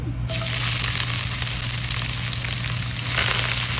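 Chopped onion hits hot oil with cumin seeds, cumin powder and dried chili in a home kitchen pan, a loud steady sizzle that jumps up at the start and carries on evenly, with no talking.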